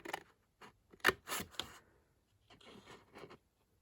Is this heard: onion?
no